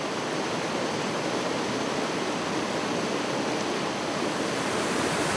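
A massive column of water plunging 800 feet at full force at Hirakud Dam, a steady, dense roar that fills the whole space without pause.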